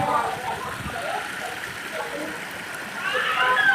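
Water rushes along channels into a crop field after morning rain, making a continuous near gushing and splashing that swells toward the end.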